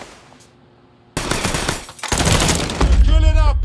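Gunfire in the Mafia 3 video game, with a sudden burst of rapid automatic fire after a quiet start, then heavier shots and a deep booming impact layered in loud, dense bursts.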